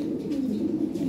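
Lahori pigeons with red beaks and red feet coo steadily at a pigeon market, a low continuous burbling that fills the whole stretch close by with no talk over it.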